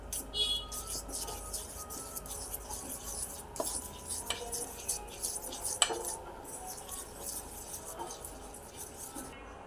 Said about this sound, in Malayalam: അപ്പോൾ നമ്മുടെ മൈദ നന്നായിട്ട് മിക്സ് ചെയ്തെടുത്തിട്ടുണ്ട്.